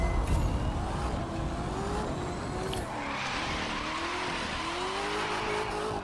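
A car in The Crew 2 racing game drifts with a sustained tire squeal over a loud engine roar, the pitch wavering as the slide continues, close and constant with no talk.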